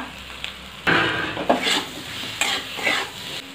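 Tomatoes with salt and slit green chillies fry in a pan, a soft sizzle under several close scraping stirs of a spatula against the pan, spaced irregularly.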